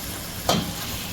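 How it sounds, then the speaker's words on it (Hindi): Tomato puree masala with spices frying in hot oil for a village-style fish curry, one brief sizzling burst with a stir, close and fairly loud over a low steady background hiss. "प्यूरी के साथ हम इसे अच्छे से भूनते हैं जब तक कि ऑयल ऊपर नहीं आ जाता"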